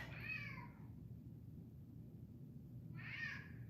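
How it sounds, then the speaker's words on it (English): A pet cat meows twice indoors, once at the start and again near the end, moderately close over a steady low background hum, with no talk. "I guess my cat wants to participate"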